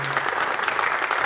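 Audience applause at a live film promotion event, a steady dense clapping from a crowd that fills the whole moment without pause.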